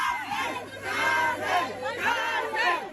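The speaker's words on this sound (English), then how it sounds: "apparently she thinks that people are cheering for her, but they're booing her" A crowd of onlookers at a pyramid loudly boos and yells at a tourist climbing it, a sustained mass of jeering voices swelling in waves over about three seconds.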